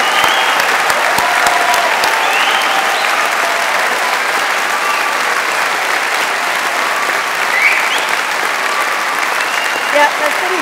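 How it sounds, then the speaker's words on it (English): A large audience at a London university degree ceremony applauds and cheers the graduates, a loud, steady wash of clapping with occasional whoops rising above it throughout. "One more big whooping cheer for all the graduates today."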